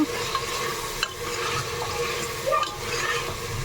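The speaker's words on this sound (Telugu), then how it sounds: "సో చికెన్ వేసుకున్న తర్వాత ఒకసారి చికెన్ అంతా ఆయిల్లో మిక్స్ చేసుకున్నాము" Chicken is stirred through hot oil in a pressure cooker, a short close burst of sizzling and wet scraping with a couple of louder stirring strokes, no talking.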